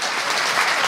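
Dense audience applause for the participants during a live variety talent show, steady and loud throughout the short burst with no talk over it.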